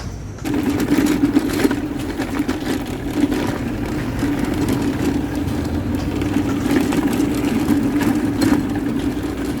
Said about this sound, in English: lots of traffic here tonight